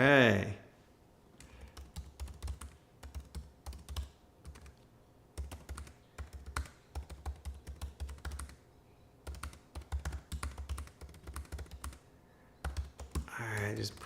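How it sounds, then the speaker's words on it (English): Computer keyboard typing in bursts of quick, close clicks with short pauses between runs, a person's voice briefly heard at the start and end. "just typing something in here"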